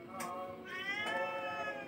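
A domestic cat meows in a drawn-out, close, clear wail with a second rising meow right after, filling the short stretch with no talk over it.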